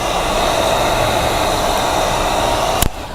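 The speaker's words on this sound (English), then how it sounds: "Grab your heat gun, seal the edges" Heat gun blowing hot air while sealing the edges of chrome delete wrap on a 2025-2026 Volkswagen Tiguan, a loud steady airy whoosh that cuts off with a click near the end.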